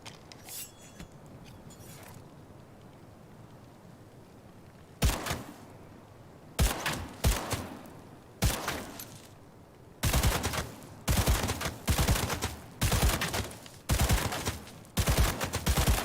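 Gunfire at target practice in Cyberpunk 2077, a few single loud shots followed by rapid clustered bursts of firing, close and unaccompanied by talk.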